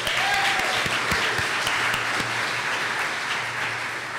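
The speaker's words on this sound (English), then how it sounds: "So round of applause" An audience at a talk gives a steady round of applause, a dense continuous patter of many hands clapping at even loudness for several seconds, easing slightly toward the end, with no speech over it.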